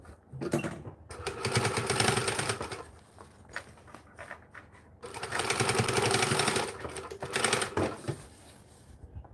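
A sewing machine stitches binding onto a small bag, running in two long, loud bursts with short pauses and brief starts between them, close and steady with no talking.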